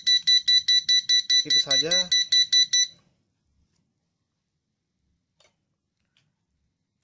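A modified smoke detector alarm sounds a rapid series of loud, piercing electronic beeps for about three seconds, then cuts off. A voice speaks briefly over the final beeps, followed by near silence.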